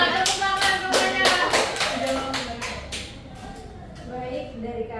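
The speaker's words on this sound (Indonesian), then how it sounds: "tepuk tangan semuanya" A classroom group clapping their hands together, a quick burst of sharp, fairly close claps that gradually thin out and fade, with voices speaking over it.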